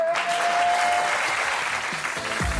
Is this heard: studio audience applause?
yes